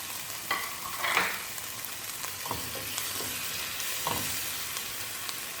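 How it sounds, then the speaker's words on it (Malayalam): Chopped tomato frying in a pan for a Kerala-style vegetable biryani, a steady close sizzle with a few soft stirring scrapes and clicks, and no talk. "ഇനി ഇതിലേക്ക് ഒരു തക്കാളി അരിഞ്ഞത്."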